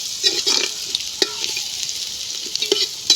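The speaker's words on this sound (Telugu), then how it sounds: "ఉల్లిపాయలు అయితే బాగా మగ్గాలండి." Onions fry and sizzle in a pan with curry leaves, stirred by a spoon scraping the metal in short bursts, set against a steady hiss; no talking.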